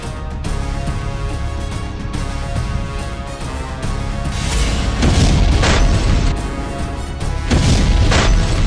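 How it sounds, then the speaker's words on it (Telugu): A bomb blast erupts in a Telugu TV serial scene as a loud, sustained roaring boom with rumbling bursts that swell and crash repeatedly, filling the whole moment without any speech. "ఇంకా ఆలస్యం చేయకుండా బాంబ్ బ్లాస్ట్ చేసేయాలి."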